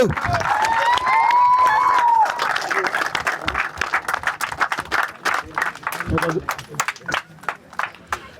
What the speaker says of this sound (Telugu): నరేష్ అన్న గారికి చప్పట్లు